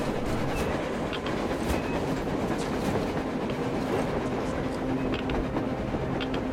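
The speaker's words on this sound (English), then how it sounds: "A train! A damn train on the surface!" Train rolling on the surface in the video game Metro Exodus, a steady loud rumbling roar with faint rhythmic clatter and occasional metallic squeals throughout.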